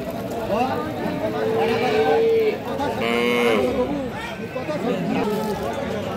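A dairy cow lets out a couple of drawn-out moos among people chatting nearby at an outdoor cattle market.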